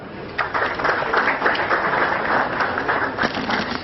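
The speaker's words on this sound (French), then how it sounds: "On applaudit le CEO" An audience applauds the CEO at a fibre network launch ceremony, a dense, steady burst of many hands clapping that starts after a brief pause and continues evenly throughout.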